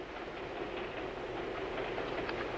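A moving train carries its passengers along the rails, producing a muffled, steady rumble with a faint clickety-clack rhythm, heard as continuous background in an old 1956 production, without speech.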